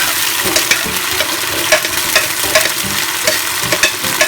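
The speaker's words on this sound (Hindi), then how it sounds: "और अब हम इसको अच्छे से भून लेंगे" Steady sizzling of a thick garlic-ginger paste with tomato and green chilies frying in a pan, with repeated scraping and stirring clicks throughout; no voices.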